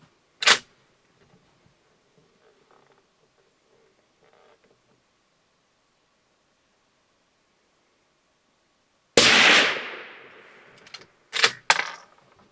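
A rifle fires a single sharp, loud report at an outdoor shooting range while a Hikmicro Stellar thermal scope is being zeroed, followed by a few short clicks and mechanical handling sounds in otherwise quiet surroundings.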